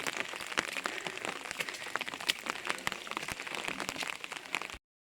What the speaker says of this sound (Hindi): तो देखो बारिश लगी हुई है और हल्के हल्के गदने आने शुरू हो गए हैं।